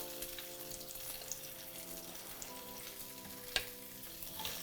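Onion strips sizzling in hot oil in a pan over medium heat, a continuous close crackling fry with a faint tonal hum beneath and one sharp clink partway through.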